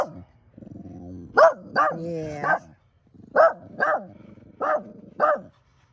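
A dog barks in short bursts, about seven sharp barks in two clusters, with some whining between them and a brief voice saying a word.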